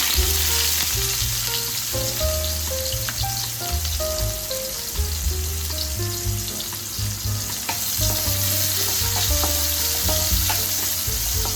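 Onions sizzle loudly in hot oil with popped mustard seeds, a dense, steady frying crackle close by with occasional sharper pops and faint stirring, no voices.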